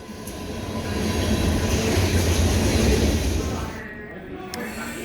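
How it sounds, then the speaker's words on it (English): Mixed freight train passing by a station in Wisconsin: a loud, steady rumble and rattle of rolling wagons that swells, holds and then fades as the cars go by. "after another mixed freight train passed by"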